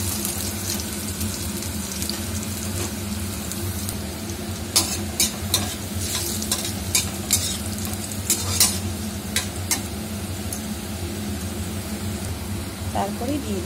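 Chopped garlic fries in a pan with black cumin, a constant sizzle broken by sharp scraping stirs, close up, with someone talking in Bengali over it.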